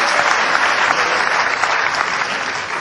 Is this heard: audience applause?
yes